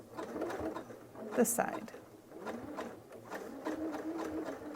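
Sewing machine stitching a jelly roll rug: a steady, moderately loud whirring hum runs throughout, close by, under a person talking.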